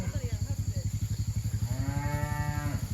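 Cattle moo loudly and repeatedly, one long drawn-out low call rising clearly near the end, as a herd is let onto a new hay field pasture, with a steady rhythmic engine-like thrum running underneath throughout.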